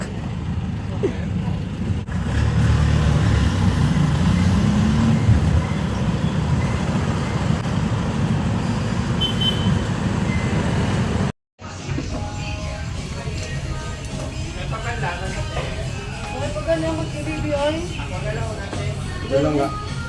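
Heavy road traffic is heard from inside a jeep, with a constant low engine rumble and road noise that briefly cuts out, then resumes with faint passing vehicles and background voices.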